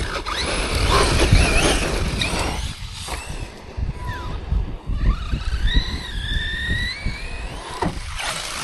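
A Traxxas Rival MT8 RC monster truck drives and skids, with whining electric motor bursts, tire scrubbing and squeals rising and falling in pitch, close and fairly loud.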